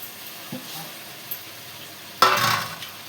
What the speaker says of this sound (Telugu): కొంచెం టమాటా ముక్కలు వేసుకుందాం కొన్ని, ఇది కూరలోకి.